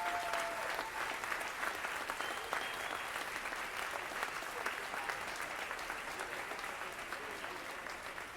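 An audience applauds steadily at a campaign launch event for the 2nd constituency of Vienne, a dense, even wash of clapping that carries on at moderate distance for the whole stretch without letup.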